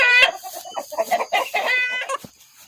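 Chickens inside a coop cluck loudly and close by in rapid, uneven bursts, with sharp squawks rising over the chatter and brief gaps between calls.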